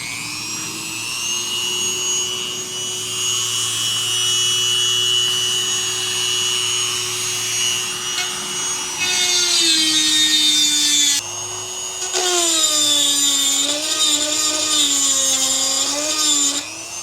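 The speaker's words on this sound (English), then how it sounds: "So we'll grind the middle so it stays level, and then we'll slowly bring these down." A power grinder works down the tuning pegs of a guitar, a steady high whine that rises and falls as the tool bears on the pegs, continuous and close with no talking.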